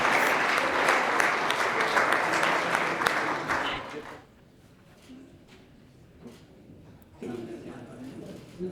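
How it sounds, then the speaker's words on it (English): Audience applause for a volleyball athlete at a high school college letter-of-intent signing, a loud sustained round of clapping for about four seconds that fades out, followed by quieter room noise and a voice. "Let's give her a round of applause."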